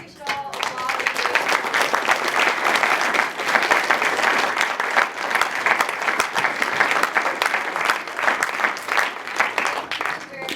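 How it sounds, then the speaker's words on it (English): An audience applauds at the close of a concealed-carry debate, with dense, sustained clapping that swells quickly and holds steady for about ten seconds, loud and close, mixed with some crowd murmur. "I think we should all applaud"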